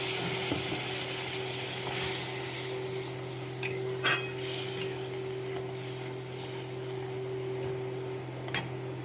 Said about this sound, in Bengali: দেখো ঝোলটা ফুটছে